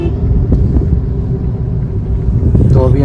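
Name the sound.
Hyundai i20 car driving on the road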